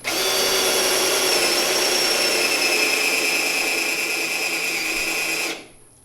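Power drill boring out spot welds on a GMC Sierra Duramax 2500 truck body, a loud steady high whine held for about five seconds before spinning down abruptly.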